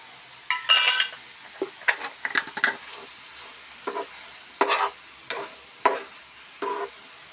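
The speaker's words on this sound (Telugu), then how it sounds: "ఇందులోనే చింతపండు వేసుకొని ఫ్రై చేసుకోవాలి." Tamarind with turmeric, cooked for a cucumber chutney, is fried and stirred in a pan: brief sizzling bursts and scraping spatula strokes come one after another, close and crisp, with near silence between them.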